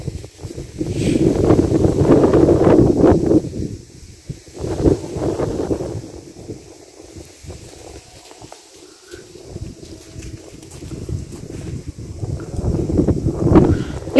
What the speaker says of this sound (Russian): Ветер сегодня, ребята. Минус 8 и ветер.